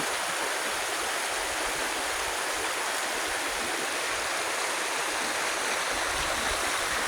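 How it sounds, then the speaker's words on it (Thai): Floodwater from a forest runoff surge rushes steadily into an organic farm's orchard entrance in Phetchabun, Thailand, a constant loud broadband roar of flowing water with no voices. "เหมือนว่าปีนี้น้ำจะเยอะกว่าทุกปีครับ ไหลออกมาฝั่งนี้เยอะครับเนี่ยน้ำ"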